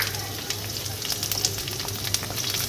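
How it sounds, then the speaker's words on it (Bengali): Potatoes fry in hot oil in a village kitchen, giving a steady close crackle and sizzle with scattered sharper pops throughout. "আলুটা ভেজে নিচ্ছি"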